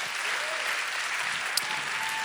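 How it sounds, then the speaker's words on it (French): A church congregation applauds in a sustained, dense wash of clapping that holds steady and fairly loud from start to finish, with one brief sharp accent near the end. "On peut-tu donner une main d'applaudissement pour le roi des rois, le Seigneur des seigneurs?"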